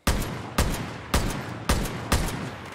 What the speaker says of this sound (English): I'm not the best at the sniper.